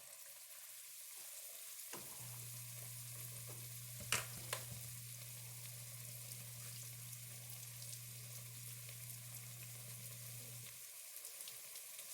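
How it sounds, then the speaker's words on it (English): Salmon croquette patties fry in hot grease with a steady, close sizzle that starts abruptly and holds for several seconds, broken by a couple of brief clicks and splatters, then cuts off near the end. "go ahead and slide that right into the grease"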